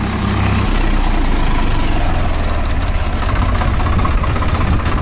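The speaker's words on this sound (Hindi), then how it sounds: "तो भाई बिल्कुल हल्के से चल रहा ट्रैक्टर" A Swaraj 855 tractor fitted with a shrub cutter runs gently, giving a loud, close, low rumbling throb that stays steady throughout.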